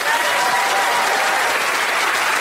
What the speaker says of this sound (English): a final round of applause for our wordsmiths